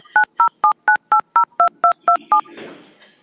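Ten evenly spaced telephone keypad dialing tones beep in a quick steady run while placing an outgoing call during a city council meeting, followed by a brief burst of line noise.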